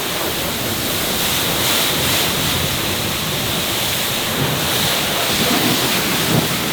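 Steady broadband water rush from a hose rinsing a car with filtered, deionized water from a portable on-the-go deionizer, continuous and fairly loud with no voices.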